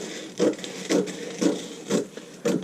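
Fabric being cut along a skirt side seam: five evenly spaced, crisp scraping snips, each short and close, with brief quiet gaps between them.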